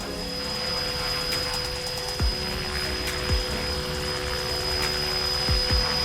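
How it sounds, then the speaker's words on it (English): Blade 330S RC helicopter coming in to land, its steady high-pitched rotor and motor whine running continuously at close range, with a few soft thumps along the way. "Always get a rush when I fly this helicopter"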